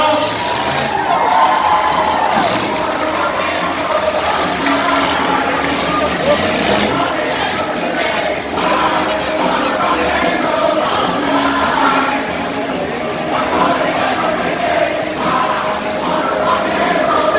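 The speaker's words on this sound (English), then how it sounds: "cheer him on for this last go" A county fair grandstand crowd cheers and shouts continuously during a tough truck run, with engine rumble blended into the steady roar and an announcer speaking over it.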